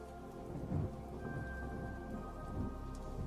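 Steady rain hiss with low rumbling is layered over a song, with a sustained musical tone running through the middle and the downpour continuous throughout.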